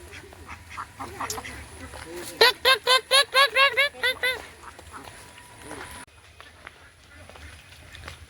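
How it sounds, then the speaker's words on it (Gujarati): A flock of ducks quacking near rainwater-filled ground, a burst of loud, rapid quacks in a regular run of calls that fades as people talk nearby. "કેટલા બધા બતક સારા બાજુ જો"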